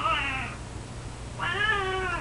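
A cat gives two clear meows, one short and one slightly longer, about a second apart, close and alone over a faint background hum.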